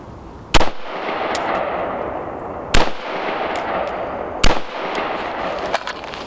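Three loud, separate rifle shots ring out outdoors, roughly two seconds apart, while a rifle fitted with a Primary Arms MD80S red dot is zeroed; a steady windy hiss fills the gaps.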